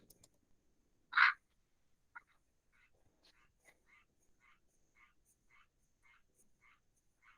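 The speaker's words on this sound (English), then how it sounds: "If that frog could quit, that'd be great." A frog croaks faintly in a quiet room, a regular series of short raspy pulses about twice a second, preceded by one sharper, louder burst.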